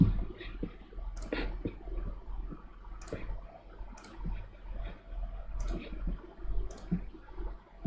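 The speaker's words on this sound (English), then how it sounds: "Right click to escape from the command." Crisp computer mouse clicks while working in ETABS structural design software, about six sharp isolated clicks spaced a second or so apart over a low steady hum, near and quiet, no speech.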